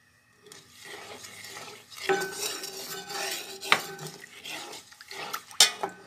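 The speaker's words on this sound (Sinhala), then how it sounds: "මේ ටික සෝදා ගන්නවා ඇපල් ගෙඩිය" Water sloshes in a bowl as apple pieces are stirred and rinsed, with clinks of a spoon or utensil against dishes and a few drips.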